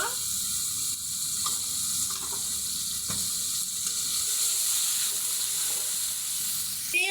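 Ground spice paste with turmeric fries in a pan, giving a continuous bright hissing sizzle with occasional scraping stirs and a sharp clink near the end.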